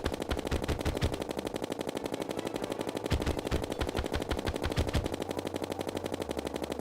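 Rapid gunfire from a gun in Terraria modded with tModLoader, firing inaccurate bullets: fast, loud bursts of mechanical shots in quick rhythmic runs, pausing briefly and resuming, alone without voices.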